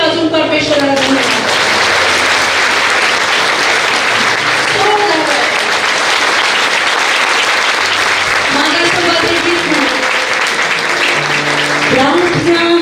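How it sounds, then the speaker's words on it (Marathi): Loud, sustained applause fills a church gathering as the congregation claps in thanks to God, dense and continuous for the whole stretch, with a voice speaking over it now and then. "जोरदार टाळ्या वाजवून परमेश्वराला धन्यवाद."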